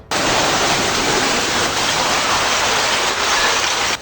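Heavy, continuous rain pours down in Karnataka during a spell of nonstop monsoon downpour, a dense, steady roar that holds level from start to finish with no voices.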